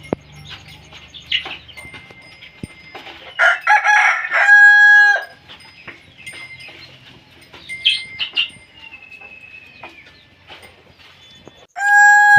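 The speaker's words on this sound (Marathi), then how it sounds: "ही बघा आपल्या कोंबड्या कशा लाईनीनं बसल्या डब्यात अंडे देण्यासाठी." Hens in laying boxes on a small farm cluck and fuss while a rooster crows loudly twice, once midway and again at the end, with softer scattered calls between.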